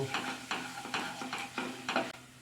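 Tofu stirs and sizzles in a pan with turmeric and Kashmiri chilli powder, a spatula scraping in regular strokes about every half second over a soft, steady frying hiss.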